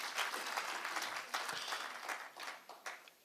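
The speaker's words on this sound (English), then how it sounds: "A round of applause for the organizers." An audience at a City of Johannesburg skills development graduation ceremony gives a short burst of applause, with steady hand clapping that sounds fairly distant and soft.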